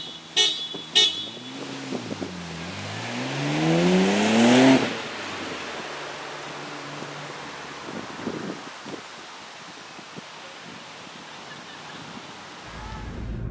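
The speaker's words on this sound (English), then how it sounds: "here's a legitimate drag race between the Scion and my Nissan Skyline GT-R" A Scion FR-S and a Nissan Skyline GT-R drag race. Engines climb through rising, revving gear changes to a loud peak, a short horn toot sounds early, and then the cars fade into distant rumble and wind.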